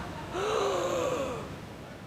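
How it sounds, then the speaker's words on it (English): A single sharp gasp of shock rises from a voice, brief and fairly close, over a quiet background hiss with no other sounds. "Nobles gasp in shock"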